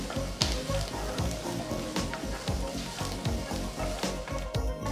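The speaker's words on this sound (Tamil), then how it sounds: "கடாயில் 3 டீஸ்பூன் எண்ணெயை ஊற்றுங்க. நெக்ஸ்ட் 3 மீடியம் சைஸ் வெங்காயம் நறுக்குனது சேர்த்து வதக்குங்க." Three chopped medium onions sauté in three teaspoons of oil in a kadai, giving a steady close sizzle with scraping and stirring throughout.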